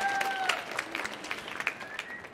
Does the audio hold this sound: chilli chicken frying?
no